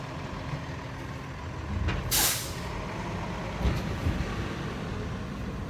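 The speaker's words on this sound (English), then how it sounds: "You're not going to be hearing me because this truck is beside me this whole way." A truck rolls alongside a walker on a street, its engine a steady loud rumble with a sharp hissing burst of air brakes in the middle and a smaller release later, no voices.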